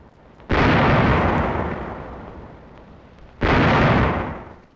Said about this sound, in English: Guns opened fire on the German trawler.